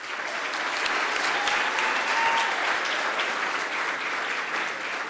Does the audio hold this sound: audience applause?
yes